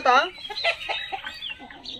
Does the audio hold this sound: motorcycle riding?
no